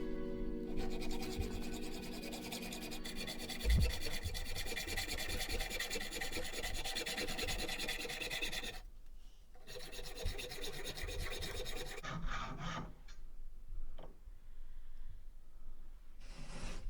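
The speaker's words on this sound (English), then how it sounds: "So I clamped up the bolts and cut them down with a hacksaw." A hacksaw cuts through clamped threaded steel bolts, a steady close rasping back-and-forth stroke that continues throughout, with a short pause and a change in tone near the end, no one speaking.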